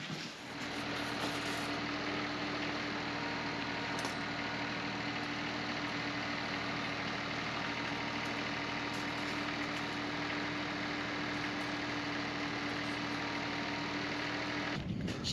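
A tractor engine idles with a steady low, vibrating rumble and a constant hum, unchanging and close, with no talking.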